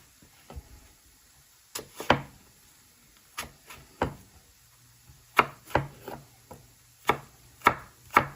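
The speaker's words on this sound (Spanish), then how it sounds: "Ahora vamos a picar la manzana verde." A knife chops a green apple on a cutting board in a home kitchen, giving a run of sharp, separate knocks that come in irregular bursts, close and fairly loud with quiet gaps between them.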